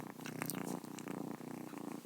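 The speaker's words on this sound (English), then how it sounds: "You want to meow? You want to purr for everyone?" Kitten purring up close, a loud, continuous rhythmic rumble that pulses steadily throughout with no talking over it.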